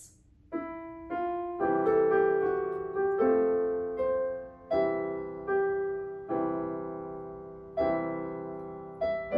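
Piano playing a song at a slow beginner tempo, with chords and melody notes struck one after another and ringing out, no voices over it.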